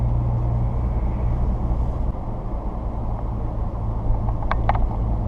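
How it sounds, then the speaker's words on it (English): A 2017 Ford Raptor truck cruises along an open road in normal mode, its engine a quiet, steady low rumble with road noise, plus a few brief faint clicks near the end. "You can hear it's a really quiet vehicle."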